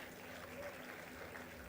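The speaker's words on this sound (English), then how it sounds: "Let's keep the applause going." Applause fills the hall at a university graduation convocation ceremony, faint and distant, a steady, continuous patter of many hands clapping with no voices heard.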